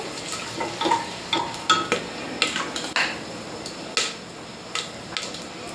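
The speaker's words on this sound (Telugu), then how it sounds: "బిర్యానీ స్పైసెస్ వేసుకున్న తర్వాత ఒకసారి కలుపుకోవాలి." Biryani being stirred in a pot after spices go in, a spoon scraping and knocking against metal in irregular clinks and scrapes over a faint sizzle, close by with no talking.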